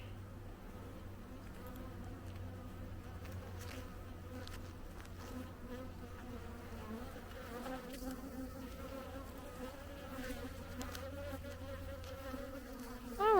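A dense swarm of honeybees drones steadily and close around a beekeeper, with individual insects zipping past and bumping the microphone over the constant buzzing hum.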